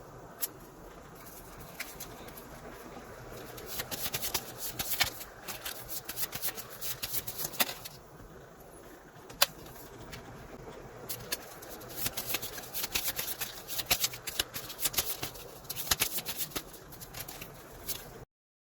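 Tarot cards being shuffled by hand, a soft continuous rubbing and riffling with scattered sharper flicks and taps over nearly twenty seconds, fairly quiet and close, with no talking.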